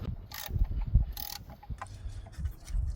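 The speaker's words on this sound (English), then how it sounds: "we're going to remove these 2 bolts that are holding it in place" A ratchet with an M9 triple square socket loosens bracket bolts during a fuel injector replacement on a VW Jetta, Golf or Rabbit: quick bursts of close, crisp clicking separated by brief pauses, with light metallic handling noises.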